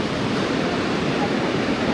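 Aggressive ocean surf breaks at Cola Beach in Goa, heard as a loud, continuous wash of wave noise with some wind buffeting the microphone.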